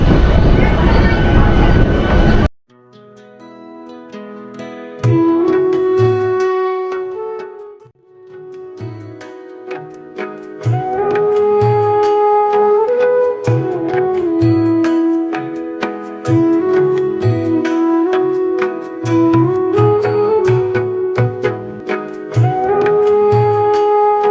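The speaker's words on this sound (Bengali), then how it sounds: "হাওড়া থেকে আমাদের ট্রেন নির্দিষ্ট সময় ছেড়ে দিয়েছে।" A passenger train travels from Howrah to Agradwip, its low rumble running beneath loud music that plays throughout after a brief opening burst of noise.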